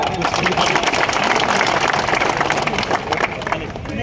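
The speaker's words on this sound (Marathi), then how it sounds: "ही गर्दी आहे ही टाळ्या वाजून यांना कळू द्या" A large crowd at a BJP political rally in Kopargaon, Shirdi, applauds continuously and loudly, the clapping dense and sustained across the whole stretch with crowd murmur mixed in.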